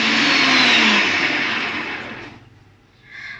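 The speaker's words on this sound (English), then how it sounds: "So I'm gonna whisk this up high until we reach the stiff peak." An electric hand whisk beats egg whites and sugar to stiff peaks, a loud steady whirring buzz that holds for over two seconds, fades as it is switched off, then gives a brief faint rattle.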